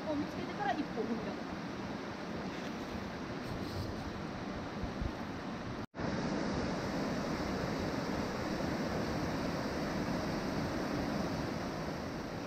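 Swollen mountain river after rain rushes steadily across a rocky crossing, a broad continuous roar of flowing water heard up close with no talk over it.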